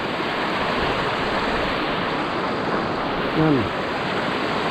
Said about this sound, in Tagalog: Pero diretso po naman tubig nadating din sa ating palayan sa hanggang kaduluhan.